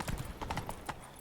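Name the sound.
horse Roach hoofbeats, from video game The Witcher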